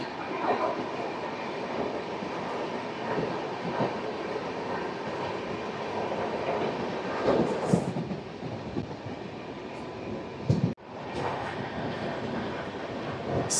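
Rayalaseema Superfast Express, train 12794 from Nizamabad to Tirupati, rolling along: a continuous close rumble of the coaches with faint rhythmic clatter from the wheels and a brief sharp dip near the end.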